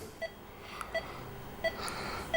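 A telephone rings indoors in a Turkish comedy scene, giving short, evenly spaced electronic beeps that sound fairly faint over a quiet room.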